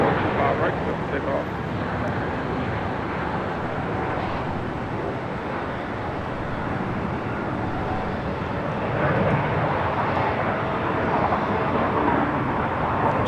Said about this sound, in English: It's a flight taking off to San Antonio, flight